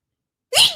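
One short, sharp sneeze bursts out abruptly after silence, close and fairly loud.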